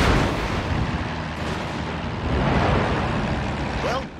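Anti-aircraft fire from a carrier in World of Warships, a dense, roaring wash of continuous flak bursts and rumbling booms with the churn of sea and engine underneath, steady and loud throughout.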